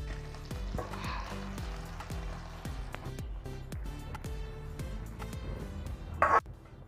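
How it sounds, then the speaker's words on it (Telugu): Hot lentil-soup tempering with curry leaves, poured off the stove into a moong dal broth, gives a steady close sizzle that runs under regular beats of background music, with a brief louder burst near the end. "ఇప్పుడు స్టవ్ ఆఫ్ చేసుకొని పోపు చారులో వేసుకుందాం"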